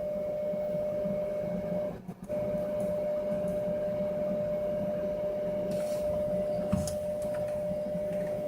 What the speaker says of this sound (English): the filament is being extruded